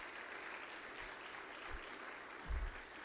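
Audience at a benefit gala applauds steadily throughout, a soft even patter of many hands with a slightly louder swell near the end.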